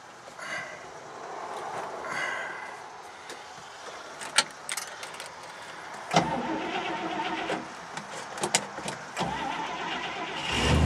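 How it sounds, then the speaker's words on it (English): A 1961 Rambler engine cranks and starts, with a broad mid-range roar from the car holding steady and sharp clicks and clunks scattered over it, fairly close. "go ahead and crank it up for you here."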